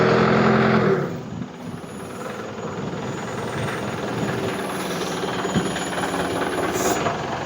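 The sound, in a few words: crane truck engine started and running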